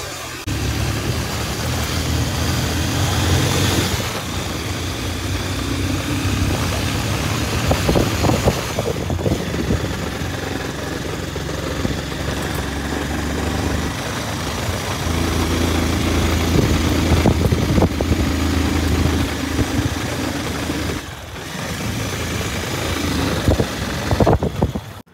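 A motorcycle engine runs continuously on a hillside road, a steady mid-pitched drone with small rises and dips and brief dropouts, loud throughout and without speech.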